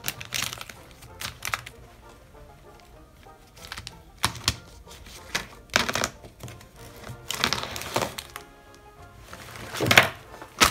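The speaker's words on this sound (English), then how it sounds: "now I'm going to erase all the pencil lines with the eraser." An eraser rubs pencil lines off watercolor paper in short bursts of dry, scratchy scrubbing, close and irregular, with quiet pauses between strokes.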